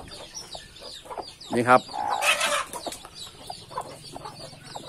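A mother hen sitting on a nest of hatched duck eggs gives short, soft clucks, with a brief louder burst near the middle, while someone speaks a few words close by.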